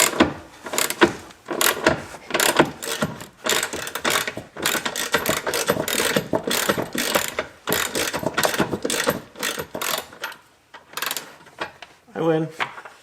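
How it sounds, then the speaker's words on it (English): A ratchet wrench working bolts on a skid plate of a Chevy Colorado gives rapid, close, continuous clicking in repeated strokes, pausing briefly near the end. "It's a wrench, so it's a ratchet."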